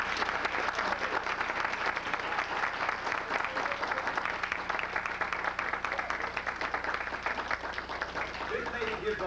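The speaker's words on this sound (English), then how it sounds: "I think we need to give her a big round of applause." A room of guests at a 62nd birthday celebration claps steadily in a dense, even round of applause that holds for the full length, with voices murmuring underneath.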